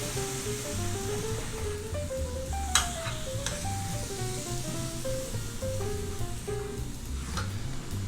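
Squid laid into a hot pan with a spoonful of cheongju rice wine, giving a steady broad hiss under a faint melodic music bed, with a couple of brief sharp clicks, nearby and even in level.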